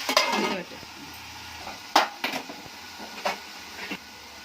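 Tomatoes added to a kadai during cooking and stirred with a utensil, producing a few scattered scraping clinks and knocks of metal against the pan over a faint sizzling background.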